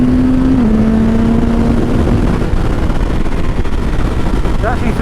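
CFMOTO 675 SR-R supersport motorcycle accelerating, its engine a loud steady drone that rises slightly in pitch, heavily buffeted by wind noise throughout.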